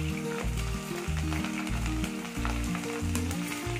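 Onions and green chillies sauté in a pan, sizzling steadily and loudly close up, with a pulsing, repeated rhythm.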